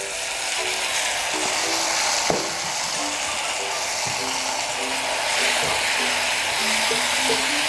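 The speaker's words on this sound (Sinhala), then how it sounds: "ඊළඟට අපි මේ සෝස් එක දානවා." Sauce going into a frying pan of sausage curry gives a steady sizzling hiss with light scraping stirs and a few sharp clicks, close and continuous, no voices.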